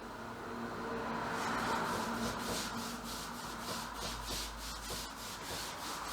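A brush spreads a coat of gesso across an MDF board in steady, continuous rubbing strokes, close and fairly quiet, with no voices.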